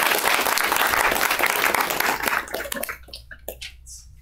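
An audience at a university lecture on election norms and democracy gives dense, steady applause that thins out into scattered individual claps before fading away.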